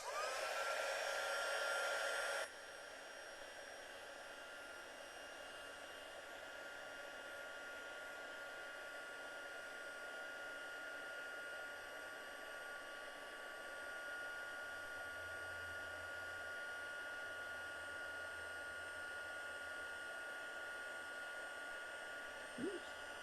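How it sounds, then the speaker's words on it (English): A heat tool blows hot air to heat emboss white powder on a Christmas card. It gives a steady, close, continuous whoosh that runs through the whole stretch, with no talk over it. "So we're just gonna heat emboss this."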